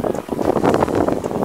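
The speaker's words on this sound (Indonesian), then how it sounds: "Angin makin kuat" Strong wind gusting outdoors at a fishing spot during a casting battle, a steady broadband roar buffeting the microphone throughout with no voices.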